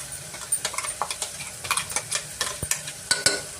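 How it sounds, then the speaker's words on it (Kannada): Freshly ground raw masala paste frying in a pan for a tomato bath, with a busy sizzle and rapid, repeated scraping strokes of a spoon stirring close by throughout. "ಚೆನ್ನಾಗಿ ನಾವು ಫ್ರೈ ಮಾಡ್ಕೊಬೇಕಾಗತ್ತೆ."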